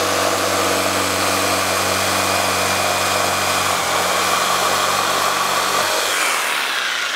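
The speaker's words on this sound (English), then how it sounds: "Next, we're gonna cut a 27 inch piece." Power saw cutting a 27 inch length from a 1x12 pine board during a bench build, a loud steady motor whine with grinding cut noise that drops in pitch near the end, then stops abruptly.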